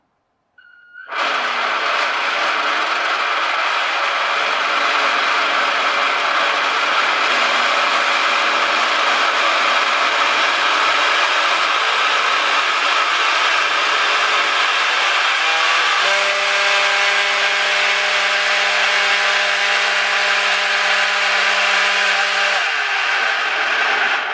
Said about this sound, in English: So now I'll spin the motor in the opposite direction.